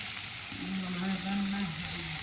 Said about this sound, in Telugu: ఇవన్నీ ఐటమ్స్ ఫస్ట్ పోసుకొని ఫ్రై చేసుకోవాలి.